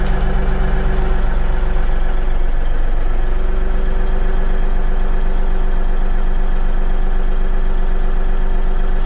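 A Bobcat tractor with hydraulic trouble sits at idle, its engine chugging in a steady, even low drone that runs unchanged throughout with no talk.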